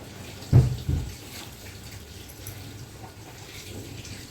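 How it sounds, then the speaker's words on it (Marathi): Hot water is poured into semolina in a home kitchen, a short splashing pour near the start followed by a quiet, low background. "गरम टाकून घेते आत्ता पाणी रव्यामध्ये"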